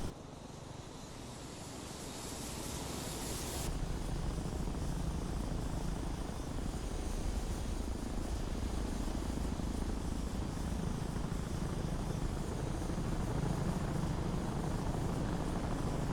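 An A-29B turboprop in a flight simulator idles after touchdown, a steady low droning rumble with a brief high whine fading early, continuous and even throughout.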